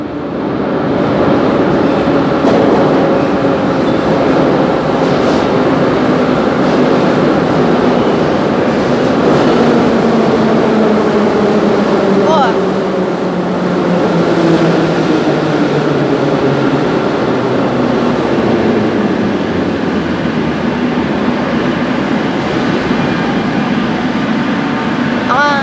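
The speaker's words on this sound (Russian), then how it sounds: "Мы сейчас ждем новогодний поезд." A New Year train runs through a Moscow metro-area station without stopping, a loud, sustained roar of wheels and carriages with falling tonal whine as it passes close by, with faint voices underneath.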